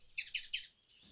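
A small cartoon bird chirps three quick, bright, high tweets in a row, then a softer, thinner trailing call, all alone with no talking, in an animated wildlife show.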